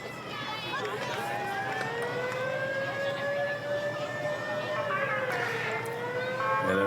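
Fire department sirens wail in a Santa Claus parade, rising and falling tones moving at mid distance beneath crowd noise and nearby talking.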